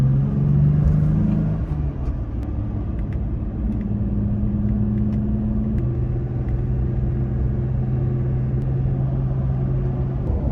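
A car drives down the road with a WeatherTech bug and stone deflector on the hood, heard from inside as a steady, loud low engine hum and road rumble that carries on throughout.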